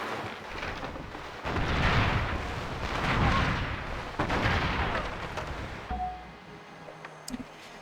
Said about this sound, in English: Start opening fire on them.